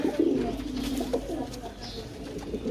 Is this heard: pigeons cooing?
yes